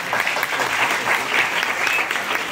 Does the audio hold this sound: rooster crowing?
no